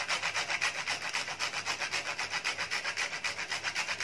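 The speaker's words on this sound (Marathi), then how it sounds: "आपण 1/2 टीस्पून जायफळ किसून घालणार आहोत" Whole nutmeg is grated by hand over a sugar filling for steamed modak, giving a rapid, regular scraping rasp of strokes at close range, continuous and unaccompanied by talk.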